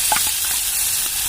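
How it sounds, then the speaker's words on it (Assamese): Finely chopped onion sizzles in hot oil in a kadai, a steady close hiss with soft crackles and light stirring scrapes, no voices. "ইয়াত পিঁয়াজখিনি অকণমান ভাজি লৈছোঁ"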